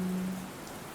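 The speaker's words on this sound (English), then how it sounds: "It's raining in the background" Steady rain hiss fills the background of a song, with a low sustained hum-like tone fading out early and no voices.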